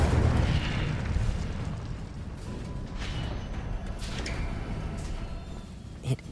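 A fire spell cast in the video game Hogwarts Legacy, heard as a sustained roaring blast of flame that runs through the whole clip and ends in a sharp burst near the end, with no speech over it.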